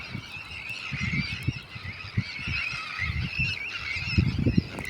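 Geese and other waterfowl honk and call continuously at a marshland bird breeding station near the Bulgarian coast, a busy overlapping chorus at moderate distance with no speech.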